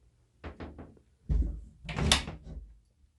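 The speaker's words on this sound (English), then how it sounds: "so I'm going to shut the door" A door being shut indoors in a home craft room: a few light clicks of the handle, then a close thump and a second rattling bump as it settles, heard alone without talk.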